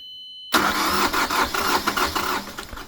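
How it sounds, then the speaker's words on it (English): A boat's engine catches after a few tries and settles into a steady running rumble, loud and close, following about half a second of silence. "The engine started up after a few tries and ran very nicely with just a tiny bit of white smoke, which is normal."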